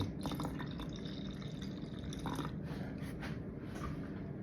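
Milk and water pour and trickle into a measuring cup close by, a soft splashing, dribbling flow with a few drips, no voices.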